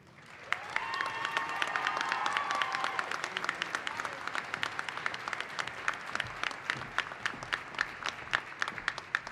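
Commencement audience applauding a graduate at a winter college ceremony, steady sustained clapping from a large indoor crowd, swelling briefly then continuing with sharp individual claps standing out.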